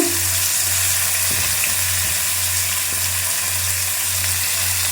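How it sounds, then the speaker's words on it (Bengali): Fresh fish fries slowly in a pan with a splash of water, giving a steady, even sizzle that runs unbroken with no talking. "আস্তে আস্তে করে মাছ ভাজবো"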